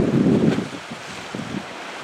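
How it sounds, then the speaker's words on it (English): Wind buffets the microphone at Malmö harbour in Sweden on an evening breeze, a low rumbling gust that is strongest at first and then eases into a softer, steady blowing. "The wind's died down a little bit."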